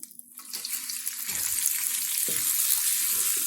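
Onions dropped into hot oil with lightly fried garam masala for chicken dum biryani, with a few clatters at the start before a loud, broad sizzle rises and holds steady at close range.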